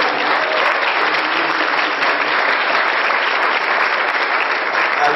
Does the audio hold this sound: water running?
no